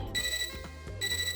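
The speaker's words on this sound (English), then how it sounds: "The computer beeps, which ends the conversation for now" Electronic beeps from a computer in the Fate/Extra video game, a bright steady tone sounding twice with a short gap, clear and alone with no talk.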